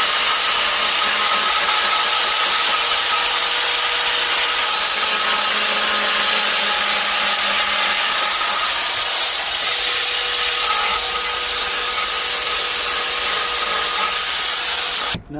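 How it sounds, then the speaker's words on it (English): A thin belt sander works on a hood hinge of a 1991 Honda CRX Si, giving a continuous loud abrasive whine and rasp that holds steady for the whole stretch before cutting off abruptly at the end, with no talk. "I'm going to actually use this thin this thin belt sander to get into that little area there"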